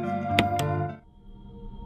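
A menu click from the original Resident Evil game: two brief, sharp clicks close together over a sustained musical tone that fades out after about a second, leaving a faint background hum.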